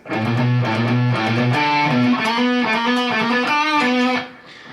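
A distorted electric guitar plays the solo, a fast run of sustained, overdriven notes climbing through phrases, loud and close, ending with a sudden stop and fading ring.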